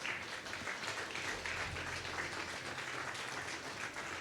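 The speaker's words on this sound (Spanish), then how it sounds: "Así que dale un fuerte aplauso al Señor" A church congregation applauds together during a worship service, a steady, fairly faint wash of many hands clapping at once that holds evenly for about four seconds, with no talking over it.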